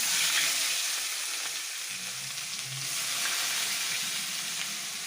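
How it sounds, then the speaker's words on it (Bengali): Onion paste frying in a pan with whole cloves and cardamom over high-to-medium gas, a steady, fairly soft sizzle with occasional stirring scrapes. There is no talk. "এবার পেঁয়াজটাকে খুব ভালো করে লাল করে একটু ভেজে নেব"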